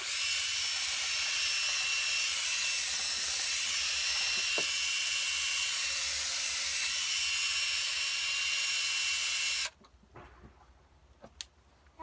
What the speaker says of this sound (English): There's no really easy way to clean this out, so I have a bit on the end of my drill.